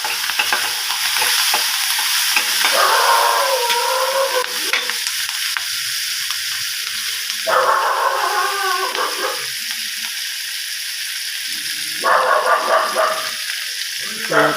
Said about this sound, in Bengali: কাঁচা লঙ্কা, কাঁচা পেঁয়াজ, তেজপাতা, শুকনো লঙ্কা এগুলো ফোড়ন দিয়ে দিলাম, ফোড়ন দিয়ে ভালো করে ভেজে নিলাম